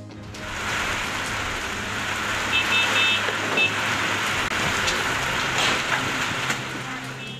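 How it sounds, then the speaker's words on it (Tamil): Heavy rain pours steadily during a thunderstorm in Tamil Nadu, a dense continuous hiss of falling water with faint traffic beneath, loud and close throughout, no clear thunderclap standing out. "இடி மின்னலுடன் விட்டுவிட்டு பெய்த கனமழை"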